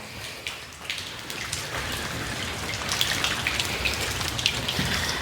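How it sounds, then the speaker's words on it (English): Steady rain falls outside a car fitted with a window visor, a dense hiss of drops patters on surfaces throughout, growing slightly heavier toward the end, with no voices. "you guys can probably hear the nice fucking rain"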